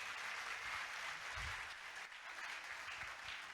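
Dense, steady applause from an audience at a men's church conference, continuous clapping at an even level throughout with no voices on top.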